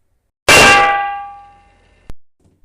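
A single loud metallic clang from a phone striking a head rings out and slowly decays, followed by a brief sharp knock near the end.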